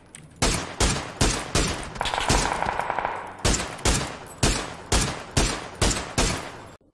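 Rapid bursts of gunfire in PUBG, about a dozen loud, evenly spaced shots with a short denser rattle in the middle, close and sharp with no talking.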